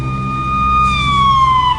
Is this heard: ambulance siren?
yes